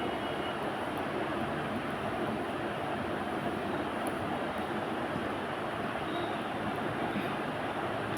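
Spices, chilies and onion frying in oil in a pan while cooking prawns, a steady dense sizzle and crackle running continuously and evenly, close and fairly loud with no talk.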